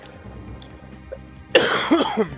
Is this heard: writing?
no